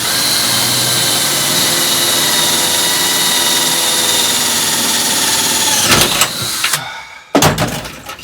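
A power drill whines steadily at high pitch for several seconds while drilling through the metal of a 1970s Dodge Challenger, then stutters and stops in a couple of rough bursts, loud and close.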